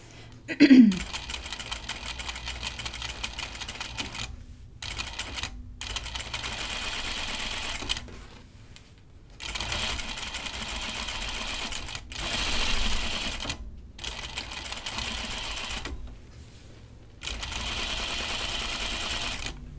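A sewing machine runs in bursts while topstitching a dress neckline, fast steady whirring stretches broken by short pauses, close and clear after a brief sharp sound at the start.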